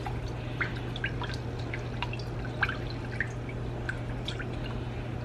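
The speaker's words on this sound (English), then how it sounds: "I'm going to get our water in this can to get the rest of that chicken broth out" Water is poured into an emptied can to rinse out leftover chicken broth while cooking a budget dinner, giving scattered light drips and small splashes over a steady low hum, close by and fairly quiet, with no talking.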